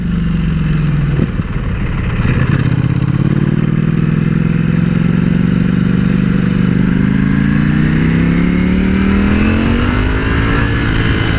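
Loud, close four-cylinder engine of a Ducati Panigale V4 S motorcycle pulling steadily, its smooth drone rising in pitch as it accelerates, with wind rush behind.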